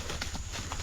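Hooves of a thirsty farm horse clip-clopping in a rural field, several quick irregular knocks close by over steady outdoor background noise.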